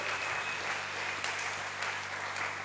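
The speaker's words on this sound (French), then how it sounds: "On peut applaudir la parole du Seigneur." A church congregation applauds during a sermon, a dense, steady clapping from many hands across the whole moment, fairly close and with no voice on top.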